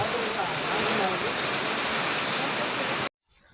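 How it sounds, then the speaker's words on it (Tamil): Waterfall at Irachil Para in Eravikulam National Park, a steady, loud broadband rush of falling water that stays constant for about three seconds before cutting off abruptly to near silence. "இது ஒரு வாட்டர் ஃபால்ஸ்."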